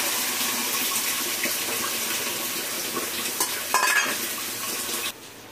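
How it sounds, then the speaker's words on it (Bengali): Ridge gourd with spice paste sizzles and fries steadily throughout, with occasional stirring scrapes, continuous and fairly close, then dropping off abruptly near the end. "ঝিঙা ভাজা হয়ে গেছে, এবার দিয়ে দেবো মশলা।"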